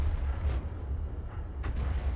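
Self-propelled artillery shells from a Bishop gun bursting in a tank video game, a steady low rumble with a couple of brief distant impact bursts around it.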